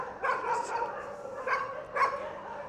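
Dogs at the Soi Dog Foundation shelter in Phuket, Thailand, bark in a few sharp, close bursts, with yips and whimpers in between.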